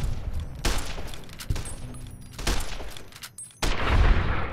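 Bursts of video game gunfire in Fallout: New Vegas, several loud booming shots with impact thuds and rumbling echoes, densely layered over game ambience.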